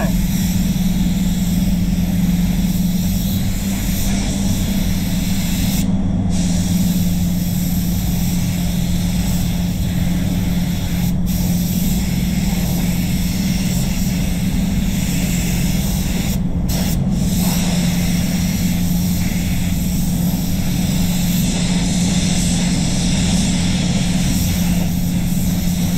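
Spray gun run at full fan and full fluid at about 2 bar lays clear coat on a Nissan X-Trail, giving a steady, loud hissing rush that runs unbroken throughout with a few short breaks.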